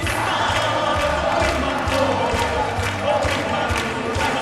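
Crowd at an ISL swimming competition in Naples, a dense continuous roar of cheering and shouting that fills the arena for the whole stretch without pause.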